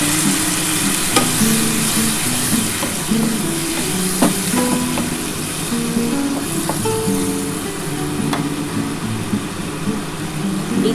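Spiced water goes into a pan of sizzling snail curry, giving a steady, close frying hiss with scattered pops and crackles and occasional utensil clinks, with no talking.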